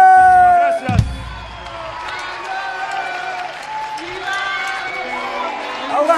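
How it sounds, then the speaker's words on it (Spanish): Concert audience at a rock show in Tucumán clapping along and cheering, a loud dense wash of applause and whoops that swells after a sharp bang and carries on steadily to the end, with no talk over it. "Las palmas de toda la gente"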